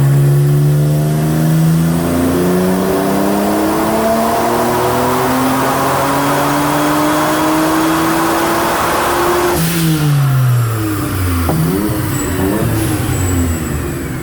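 A Mitsubishi 3000GT VR-4 engine roars at high load on a dyno, with rising harmonic sweeps as it climbs through the revs. Near ten seconds it drops off, then settles into lower, fluttering revs. It is loud and continuous, with no voices.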